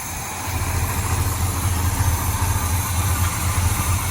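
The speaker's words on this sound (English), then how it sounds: "Fires right up and idles." A 1985 Chevrolet C10 pickup, left sitting for ten years, idles steadily with a low, even engine rumble, close and continuous, with no talking.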